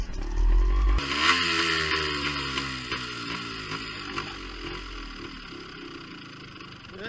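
A vintage Beta Synt trial bike engine running lean, a steady raspy two-stroke drone with a brief louder rev at the start that settles into a wavering idle, heard close and alone.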